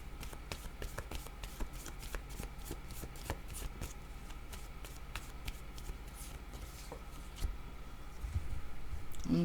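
Cards shuffled by hand for a card reading, a continuous soft riffling with regular flicks and taps close by over a steady low background hum.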